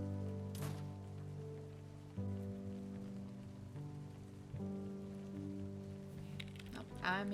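Rain falling steadily in a video game, a soft continuous patter beneath sustained musical tones, with a brief louder splash or chime near the start and a few sharper sounds at the end.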